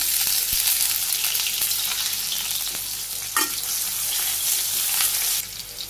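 Chopped onion and green chili frying in a hot pan give a steady, dense sizzle with occasional stirring scrapes, close and continuous throughout, with no talking.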